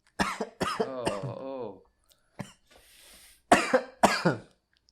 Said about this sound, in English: I'm about to cough something up